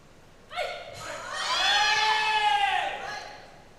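Crowd at a women's -71kg weightlifting session of the 2024 IWF World Cup rising into sustained cheering and shouting, building to a loud roar in the middle before easing off.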